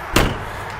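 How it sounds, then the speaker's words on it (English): The entry door of a Forest River Nobo 19.5 travel trailer being pushed shut, a single close, solid thud followed by a short rattle and room noise. "After you close your door"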